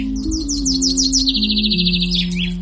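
A small bird in an animated story chirps and tweets in quick repeated bursts, close and clear over a low steady musical hum.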